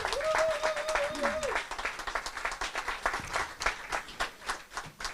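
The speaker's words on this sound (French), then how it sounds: "On acclame encore pour elle." Audience applause at a visibility summit event in Paris, a lively burst of clapping that thins into scattered claps, with a voice speaking at the start.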